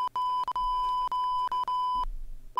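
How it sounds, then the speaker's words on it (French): Censor beep over an insult: a steady, loud electronic tone running for about two seconds, chopped by several brief gaps, then cutting off before a short second beep starts. "Je bip cette insulte."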